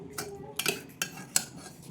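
Rice being served onto plates at home, with soft clinks and scrapes of cutlery against dishes in a few quick bursts, quiet and close, with no talking.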